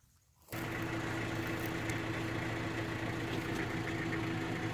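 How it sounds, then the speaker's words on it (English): A Kubota tractor engine starts up and settles into a steady, loud idle, a constant low rumble with a mechanical drone that runs unbroken to the end, with no talking. "I've nosed up to the back of the wagon with the Kubota"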